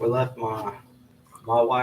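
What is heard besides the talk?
No everyday noise stands out behind the speech.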